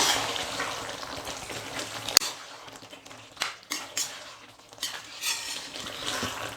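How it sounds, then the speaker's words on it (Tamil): A spoon stirs chicken and potato gravy with pepper, curry leaves and coriander in a pan. A sharp clink is followed by repeated metallic scrapes and knocks over a soft, fading sizzle. "இது எல்லாத்தையும் சேர்த்து நல்லா மிக்ஸ் பண்ணி விட்டுடுறேன்."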